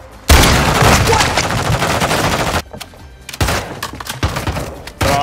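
Loud, close shotgun blasts in a video game, heavy booming shots fired in quick bursts with brief gaps between volleys.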